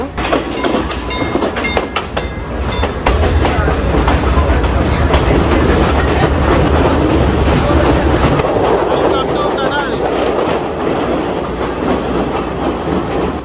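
Sri Lankan train on the Ella to Nuwara Eliya line, heard from inside a crowded general coach: a steady, loud rumble and rattle of the carriage with rhythmic clickety-clack of wheels over rail joints, and people's voices murmuring faintly in the background.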